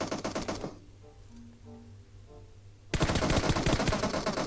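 Gunfire in a PUBG Mobile 4v4 match: rapid, loud bursts of automatic shots rattle at the start, then give way to a quiet stretch with faint clicks, before another dense, intense volley erupts.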